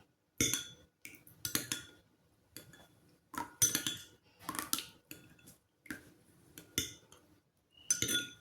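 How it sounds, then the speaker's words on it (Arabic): A spoon stirs a thick natural hair oil blend in a small bowl, giving a series of close, sharp metallic clinks and scrapes in irregular bursts separated by brief pauses. "وغادي نحركو الخليط ديالنا"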